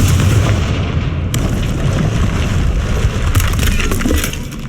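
Confringo explosion spell going off in Hogwarts Legacy, a loud booming blast with crackling debris that rumbles on for several seconds and then tapers off, with no talking.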